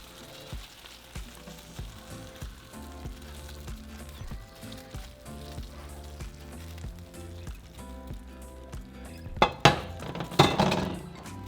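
Boiling water is poured over vegetables for curtido in a kitchen, a soft splashing hiss with light clinks of dishes and utensils, swelling into louder pouring and clattering near the end.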